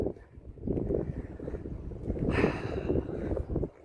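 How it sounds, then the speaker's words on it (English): Gusty wind in New Zealand buffets the microphone in rough, low rumbling bursts, rising and falling irregularly without letup. "it's become quite windy"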